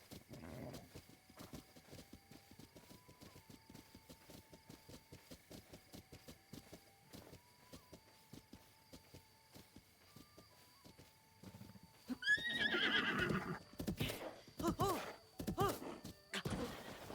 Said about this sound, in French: j'ai oublié quel bouton nous permettait de calmer les chevaux